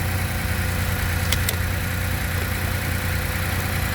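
Car engine idling steadily right after being started with a jump starter, a constant close, loud low rumble with a faint brief click partway through and no talking.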